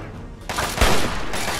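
5.56 rifle gunfire in Fallout 3: a few sharp shots ring out close together, the loudest crack near the middle, over a noisy background of combat sounds.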